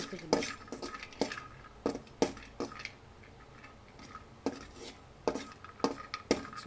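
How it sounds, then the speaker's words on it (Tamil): Peanuts, almonds, pistachios and cashews being dry-roasted in a pan, with a quiet rustle under regular sharp metallic clinks and scrapes of a spoon stirring them, close up and without speech. "அடுத்தது வேர்க்கடலை, அடுத்தது ஒரு 3 பாதாம், பிஸ்தா, முந்திரி, 3 போட்டு நல்லா வறுத்துக்கணும்."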